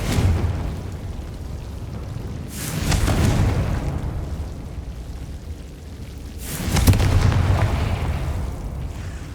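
Confringo blasting-spell explosions in the Hogwarts Legacy video game: two booming bursts several seconds apart, each followed by a rumbling tail over a steady background din.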